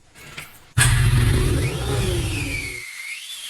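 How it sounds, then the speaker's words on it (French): A 1994 Honda CB400 motorcycle engine catches abruptly and runs at a loud, steady idle with a rough, uneven note, then cuts out near the end, leaving quiet. "Une fois démarré, le moteur brûlait énormément d'huile et produisait également un bruit anormal."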